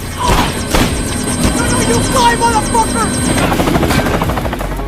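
Loud helicopter rotor chopping steadily close by, with a voice and scattered bursts of noise over the thumping.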